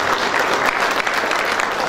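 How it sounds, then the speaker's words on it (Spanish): Audience applause at an engineering graduation ceremony, a loud, dense and even burst of clapping from a large crowd, continuous for the whole moment. "Y un fuerte voto de aplauso."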